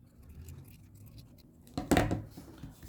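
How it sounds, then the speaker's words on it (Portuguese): Scissors cutting through a felt pattern along a traced line: one brief, crisp snip up close, following a few seconds of quiet, low rustling. "Vou cortar no risco."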